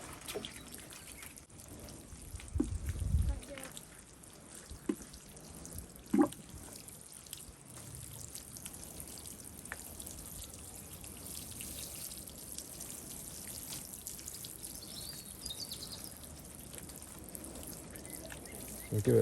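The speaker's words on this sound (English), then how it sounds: "And I'll give it a good water." Water is poured gently over the soil and stones of a freshly planted spruce forest bonsai, giving a soft, faint trickle and dribble close by with a few brief splashes and quiet background.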